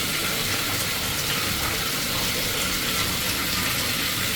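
Water runs steadily from a hotel shower and pools on the floor, a continuous close hiss with no break or talk.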